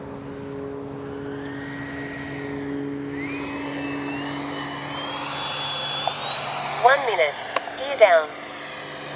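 A Freewing F-22 90mm RC model jet flies overhead, its thin rising and falling turbine whine gliding across the sky at moderate distance, with a few short louder bursts near the end.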